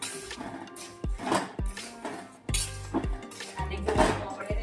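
Jaggery is stirred into hot ghee in a pan while making gundar pak. Close metallic clanks and scrapes of a spoon against the pan come in uneven strokes over a soft sizzle.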